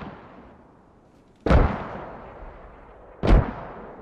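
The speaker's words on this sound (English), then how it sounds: "I see the mortars landing." Two heavy mortar rounds landing in a Squad battlefield, each a sudden loud distant-sounding boom with a rumbling tail, spaced about two seconds apart over low background hiss, no talk.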